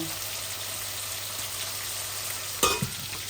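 Potatoes frying in oil in a pan, a constant bright sizzle running evenly, broken near the end by a short clatter of stirring.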